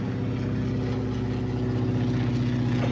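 Steady, loud drone of a propeller airplane engine running continuously, the aircraft registered F-PIIM, with a constant low rumble and even throb and no pauses.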